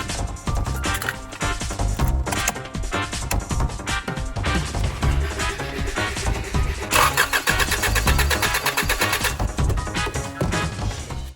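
A car engine cranks steadily at wide open throttle during a compression test, a loud continuous churning starter rhythm close by with no speech.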